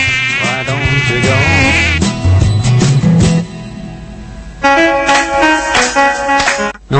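A mosquito buzzing sound effect whines high and insistent through a song, heard loud and close over the music and with no talk.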